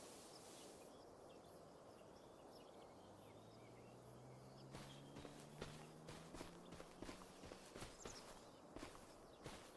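Footsteps of a character walking in Farming Simulator 25 patter quietly and evenly, faint at first and then clearer and crisper, with doubled step sounds, over an outdoor ambience with crickets and birds.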